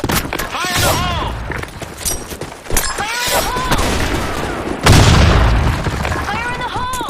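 A grenade goes off in the Sand Storm video game with a heavy boom, layered over rattling gunfire and game announcer callouts, with another burst landing near the five-second mark.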